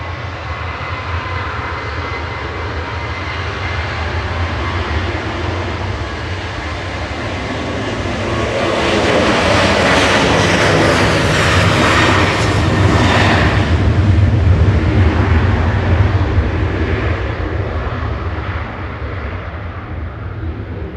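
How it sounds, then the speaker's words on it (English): A Ryanair airliner departing Manchester Airport for Tenerife South, its jet engines swelling from a distant roar to a loud, broad, rushing peak before slowly fading, heard alone outdoors. "Ryanair departing now to Tenerife South."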